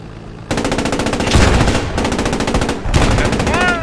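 Rapid machine-gun bursts in the WWII game Post Scriptum, loud and close, firing in several sustained strings with brief gaps, sharp metallic rattling throughout.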